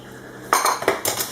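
Spoon stirring crushed biscuit into melted butter in a bowl for a cheesecake base, giving a few close, distinct clinks and scrapes against the bowl after a quiet start.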